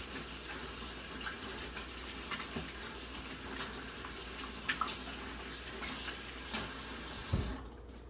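Hands are washed under a running kitchen tap during pizza crust preparation, a steady soft hiss of flowing water with faint splashes and clinks, fairly quiet and continuous with no talking.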